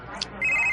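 A cellphone starts ringing with a steady high electronic trill that comes in abruptly and holds loud and close, after a brief quieter moment.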